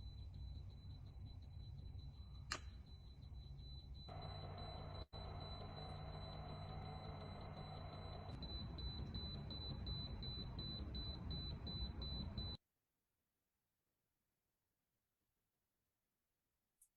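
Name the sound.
radiation detector beeping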